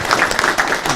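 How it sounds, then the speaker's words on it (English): Brief burst of audience clapping at an opioid response community event, steady and moderately loud throughout the short moment. "give one last round of applause"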